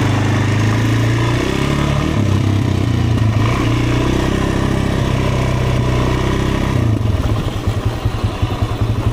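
An off-road motorcycle or quad engine runs loud and close with a steady mid-range drone, then roughly two-thirds through it stutters and sputters into uneven pulsing as it cuts out, as if starved of fuel.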